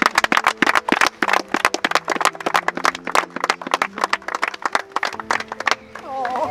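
Enthusiastic applause and clapping at a celebration honoring 100 matches for a football club's second team under its two coaches, steady sharp claps with voices speaking and cheering over them throughout.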